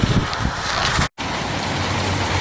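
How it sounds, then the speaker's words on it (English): Heavy rain pours down steadily as a storm moves in, a dense, even hiss that fills the whole recording, with a brief complete dropout partway through. "Yeah, it's raining pretty hard here now"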